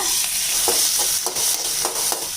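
Steady crackling sizzle of vegetables, onion and tomato, sautéing in a pan for Kongu-style lentil chutney, with occasional soft scraping stirs, continuous and close.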